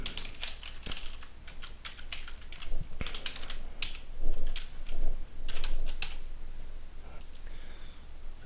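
Steady typing on a computer keyboard in an office, a continuous close patter of key clicks at an even pace with occasional heavier taps, and nothing else over it.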